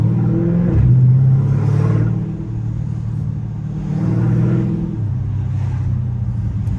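A Dodge Charger Scat Pack's engine rumbles from inside the cabin with the windows down, a steady low drone that swells twice as the throttle opens and eases back while driving.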